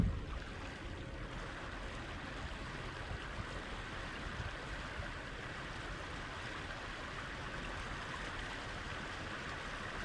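Stream water at Icy Strait Point, Alaska, flows and rushes continuously at an even level, a steady broadband wash with no voices.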